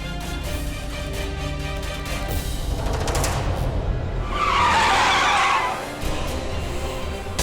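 A car skids with a loud tire squeal as its brakes fail on a rough, pothole-filled road, the screech swelling to a peak midway before fading back into a steady rumbling engine drone.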